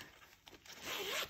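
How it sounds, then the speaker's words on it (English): A zipper on a pencil case drawn open in one continuous pull, with a quieter scrape early on building to a louder, steadier rasp near the end, heard close up. "There is another zipper."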